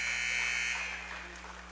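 A loud, sustained electronic buzzer sounds at the end of the third quarter of an 8th grade boys basketball game in a school gym, holding steady for about a second before fading slightly into the crowd noise.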